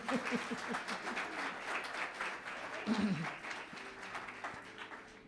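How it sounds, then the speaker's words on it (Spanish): A church congregation breaks into sustained applause, dense clapping throughout with voices mixed in, tapering slightly toward the end. "démosle un aplauso a nuestro Señor por esto."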